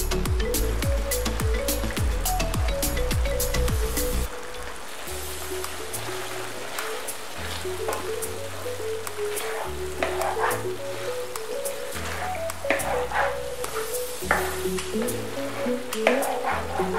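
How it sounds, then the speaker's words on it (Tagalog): Bicol Express, a Filipino pork and chili dish in coconut milk, simmering in a pan while being stirred now and then. A steady close bubbling sizzle runs throughout with occasional clinks and scrapes, and no one talks. "habang kumukulo siya ng 10 minutes, huwag din nating kakalimutan na hahaluin in between para naman hindi masunog yung sa ilalim niya"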